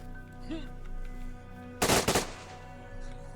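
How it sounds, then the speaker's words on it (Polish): Gunfire bursts out in DayZ's STALKER multiplayer mode, a short rapid cluster of loud shots cutting sharply through a quiet outdoor ambience, with a brief voice fragment just before. "Kto tu strzela?"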